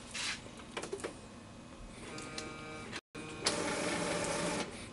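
Epson ink-tank printer with a continuous ink supply system powering on, giving mechanical whirring and rattling of its carriage and rollers, a brief pause, then a sustained louder motor run, with no talk.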